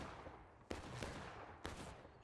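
Two separate musket shots ring out at a 2019 reenactment battle, sharp faint-to-moderate cracks about a second apart over a low outdoor rumble, with distant scattered popping between.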